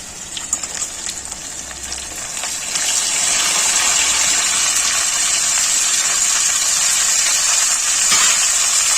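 Cut bitter gourds tipped into a pan of frying potatoes, a steady loud sizzling hiss that swells and holds for several seconds with no talk.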